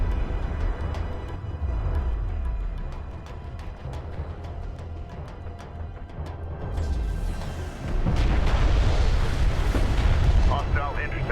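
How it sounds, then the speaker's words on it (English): Airstrike explosions in the real-time strategy game Homeworld: Deserts of Kharak, heavy rumbling booms and bursts layered over sustained battle noise that swells louder near the end, with radio-style voice callouts mixed in. "Enemy airstrike inbound."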